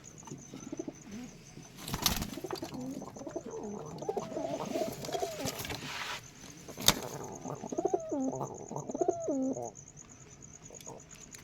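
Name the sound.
Giribaj pigeons cooing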